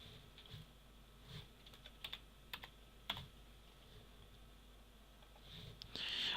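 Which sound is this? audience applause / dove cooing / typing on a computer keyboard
typing on a computer keyboard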